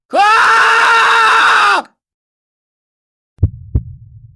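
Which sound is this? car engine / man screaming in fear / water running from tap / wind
man screaming in fear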